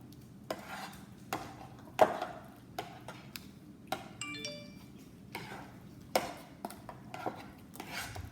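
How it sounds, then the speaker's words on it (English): Shredded mozzarella being stirred into a thick mixture for crepe-style manicotti; quiet, regular scraping and tapping strokes of a spoon against a bowl repeat roughly every half second to second, fairly faint and close, with no talking. "Keep stirring."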